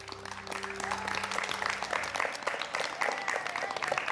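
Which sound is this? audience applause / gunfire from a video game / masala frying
audience applause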